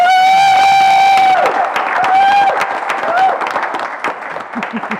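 Applause and cheering from an enthusiastic crowd welcome a player to the court at a real tennis British Ladies Open final, steady dense clapping that thins out over a few seconds, with an announcer's voice heard over it.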